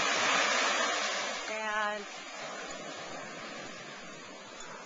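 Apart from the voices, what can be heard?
ocean waves coming in at the beach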